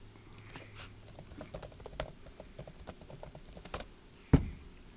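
Light, quiet clicking of a computer keyboard as a matrix is typed in, irregular keystrokes pattering along with one sharper thump near the end, no talking.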